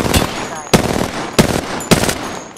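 Automatic weapon fire in the battle royale game Apex Legends, four sharp bursts of rapid shots spaced about half a second apart, loud and close.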